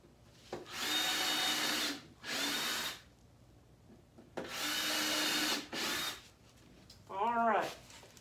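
A power drill boring into pallet wood for patio furniture, in four bursts of whirring with short pauses between them, close and fairly quiet, followed by a brief rising whine.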